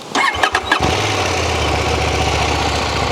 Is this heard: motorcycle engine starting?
yes